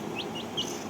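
A small chicken chick chirps inside a house, three quick, faint, high peeps in a row over a low background hum.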